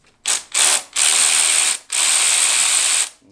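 A ratchet wrench loosens 10 mm bolts, rattling close and loud in four bursts of rapid clicking, two short and two longer sustained runs.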